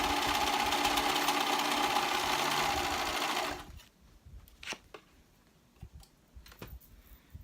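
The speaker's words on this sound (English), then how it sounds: "I just like serging better." A serger overlocking dress fabric hums along at high speed for a few seconds, then stops, leaving scattered clicks and small handling taps.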